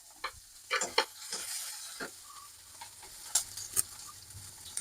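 Chopped garlic, green chili and curry leaves frying in hot coconut oil for a pickle, a steady close sizzle broken by sharp spits and crackles and the scrape of stirring.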